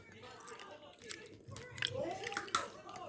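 Someone eating grapefruit yuzu yogurt at close range, with soft wet chewing and small crunchy bites, while people talk over the eating.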